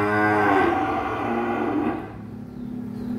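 Cattle at a cattle farm give a deep, loud, drawn-out moo, followed by quieter lowing and farmyard background.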